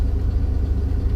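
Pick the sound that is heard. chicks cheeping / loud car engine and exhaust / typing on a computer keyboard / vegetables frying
loud car engine and exhaust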